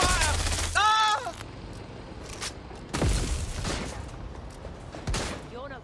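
Gunfire in the video game Watch Dogs: Legion comes as bursts of loud close shots and booms, with a whooshing, ringing effect near the start, mixed with game character shouts and groans.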